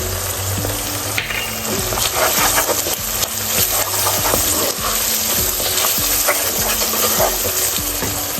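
Onions fry in a pan for a Sylheti shatkora beef curry while being stirred, a dense loud sizzle with repeated scraping strokes of the spoon in a steady rhythm, close up.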